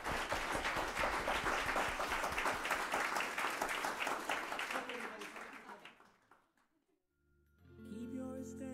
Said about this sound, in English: let's give a big round of applause for the panel